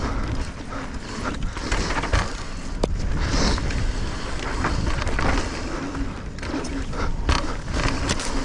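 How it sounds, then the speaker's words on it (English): Loose parts rattle and clatter on a Santa Cruz Vala e-bike while riding on a trail, a steady broadband rumble of riding noise with irregular ticks and knocks running throughout. "There's a bit of rattling."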